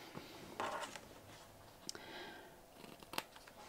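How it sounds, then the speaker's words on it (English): Scissors cut a square from extra thick pelmet interfacing fabric, a few close, crisp snipping and crunching strokes separated by short pauses, quiet and without talk. "And I'm just going to cut a square."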